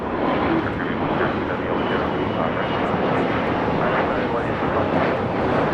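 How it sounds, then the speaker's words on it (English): A Bombardier Global 6000 business jet takes off from LAX bound for Orlando, its engines a loud, unbroken, broad roar that holds steady throughout. "This Global 6000 is taking off to Orlando, Florida."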